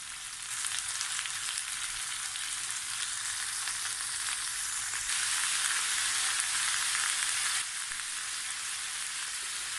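Zucchini fry in a hot pan and are stirred now and then, a steady bright sizzle that swells slightly midway and carries on alone without any talk.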